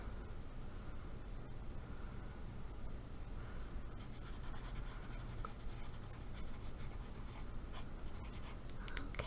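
A pencil scratches across paper in close-up, with continuous soft graphite strokes and rubbing that turn brisker and more scratchy in the second half, quiet and intimate with no talking.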